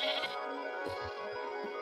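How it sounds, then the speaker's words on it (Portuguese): A Minecraft sheep gives a short, fairly faint bleat after being hit, against a steady game background with a few soft thuds. "Eu bati na ovelha."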